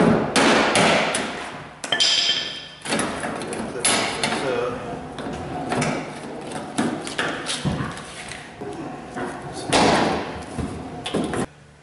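Loud knocks, thumps and scraping come from working loose a fuel pump retaining ring during a fuel pump replacement, with irregular metallic clatter and banging through the whole stretch.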